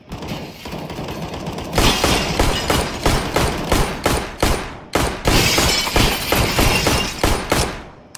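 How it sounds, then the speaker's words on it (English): Pistol gunfire in the shooter CS:GO, with a rapid series of loud, sharp shots, roughly a dozen evenly spaced cracks after a brief pause, heard up close with no talking. "I'm shooting guys with a pistol."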